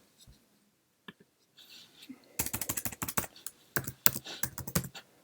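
Keys clatter on a computer keyboard in short irregular bursts of typing, close and fairly quiet, with brief pauses between runs of keystrokes.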